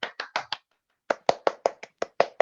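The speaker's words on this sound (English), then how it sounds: "Can we give a massive round of applause, please, to Miriam?" Miriam, a performer at an after-party livestream, gets a small patter of hand claps: two quick bursts of about four sharp claps each, separated by a short silence, close and dry with no voices.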